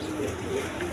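Pigeons at a pigeon farm coo softly and continuously in a brief, close burst of low murmuring calls.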